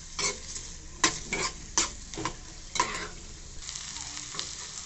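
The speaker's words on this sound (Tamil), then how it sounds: "அதுக்கு தான் இது கொஞ்சம் பொன் நேரம் ஆகிற வரைக்கும் வதக்கி விட்டுக்கோங்க." Chopped onions sautéing in a pan for a green tamarind chutney, a steady low sizzle broken by several sharp scrapes and clinks of a spoon stirring against the pan, close and fairly quiet, with no talking.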